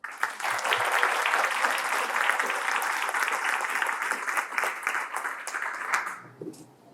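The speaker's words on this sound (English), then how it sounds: "Join me in one more round of applause." Steady applause from an audience at a literary awards ceremony, a dense wash of clapping that holds for around six seconds and then thins out and fades.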